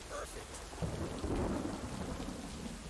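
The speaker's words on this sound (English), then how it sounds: "the rain is so loud" Rain and thunder in the video game Lake: a steady wash of heavy rainfall with a deep rumbling thunder roll swelling in the middle, moderately quiet and without talk.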